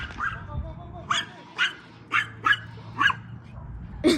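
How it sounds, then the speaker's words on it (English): A frightened dog during fireworks gives a series of short barks and yips, about six in a loose rhythm, fairly close and moderately loud over a low background hum. "But this dog is freaking out."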